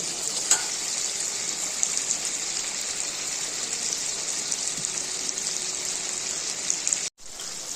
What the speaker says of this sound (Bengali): চিকেনটা তো ভালো মতো মশলার সঙ্গে কষিয়ে নিচ্ছে